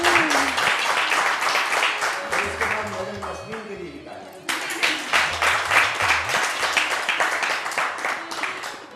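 An Eid special studio audience applauds for a singer, brisk, dense clapping that dips briefly midway and then surges again, with voices talking over it.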